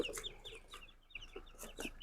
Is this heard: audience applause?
no